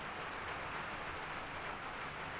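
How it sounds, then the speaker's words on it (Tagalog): Steady, dense hiss of rain falling, a continuous broadband wash with no distinct drops standing out and no talking. "Umuulan."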